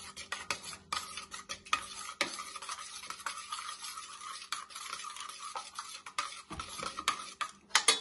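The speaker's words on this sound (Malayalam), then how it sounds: "അപ്പൊ തൽക്കാലം കുറച്ച് വെള്ളം ഒഴിച്ച് അതൊന്ന് കലക്കി എടുക്കാം." A utensil stirs tamarind water in a vessel for tomato rasam, giving repeated quick scraping and light clinking strokes that continue steadily, close and fairly quiet, with no one talking.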